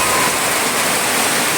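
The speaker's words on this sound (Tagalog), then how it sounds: "Napakalakas po ng ulan." Heavy rain pours down hard near a farm hut in the hills as a typhoon approaches, a dense, loud, unbroken roar of water that stays level throughout.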